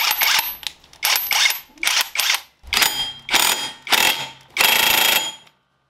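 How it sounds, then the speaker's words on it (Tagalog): Socket ratchet tightening a nut during maintenance on a Honda PCX 160 scooter, heard as seven loud, close bursts of rapid clicking, each under a second long, separated by short pauses. "higpitan nyo muna to gamit yung socket"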